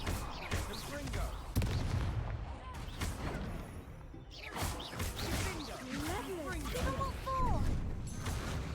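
Confringo fire spell cast during a duel in the video game Hogwarts Legacy, with bursts, whooshes and blasts layered over game music and character voices throughout.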